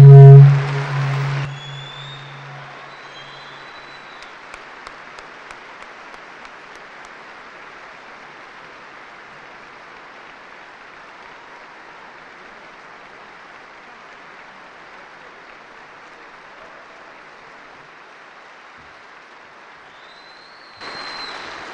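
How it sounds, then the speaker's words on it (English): An audience at an Air National Guard commanders call applauds, a soft, steady wash of clapping held at a distance for about twenty seconds, framed by brief louder sounds at the start and end. "please stand up and give him a round of applause"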